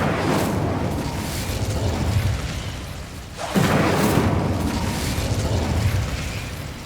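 The Incendio fire spell is cast in Hogwarts Legacy, a loud whooshing burst of flame that roars continuously, dips briefly, then flares again with a fresh blast.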